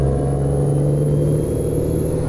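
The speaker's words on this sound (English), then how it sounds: "That truck sounds really nice." Steady, continuous drone of a truck engine in American Truck Simulator, a Scania 143, with a strong low hum and constant idle-like rumble throughout, no talk over it.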